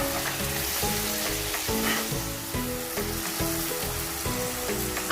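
Mutton karahi sizzles steadily in a pan as garam masala and spices fry and are stirred in, a continuous close crackle under a melodic backing.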